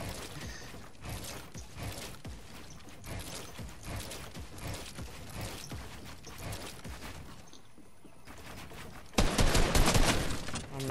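Rapid, continuous video game gunfire, dense bursts of automatic shots running throughout with mechanical clatter, and a louder, harsher volley near the end.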